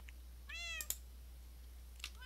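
A cat in the Minecraft video game meowing, two short rising meows with a faint third, clear and close over a low steady hum, no talk.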